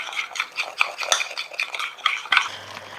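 A thick potato and leek papet vaudois being stirred in a pot, a rapid run of close scraping and clinking strokes of a spoon against the pot, steady and rhythmic with no talk.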